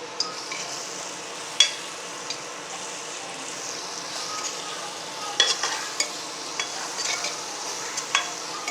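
Chili and cashew paste stirred and frying in a pot for plain biryani (kuska), a steady close sizzle with intermittent scraping clinks of the spoon against the pot, no talk.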